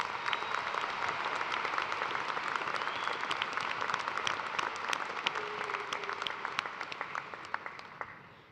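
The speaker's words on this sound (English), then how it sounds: "Please give Mr. Thomas another round of applause and thanks." An audience at a spring undergraduate commencement ceremony gives sustained, even applause, a dense wash of many hands clapping that holds steady and then fades slightly toward the end, with no voices over it.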